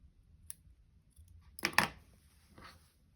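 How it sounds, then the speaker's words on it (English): Scissors snip fabric at a folded neckline while sewing a Sagebrush top: a short near double cut in the middle, with a faint click before and a softer rustle after, no talk. "you can always just fold your neckline in half and make a small snip"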